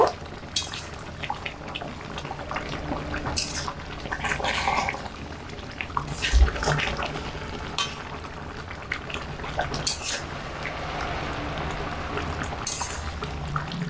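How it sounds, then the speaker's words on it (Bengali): Milk stirred into an eggplant malai curry in a pan, giving soft liquid sloshing and scraping with scattered clinks of the spoon at a steady, moderate level, and no talk. "দুধ দিয়ে একটু ভালো করে নেড়ে দেব।"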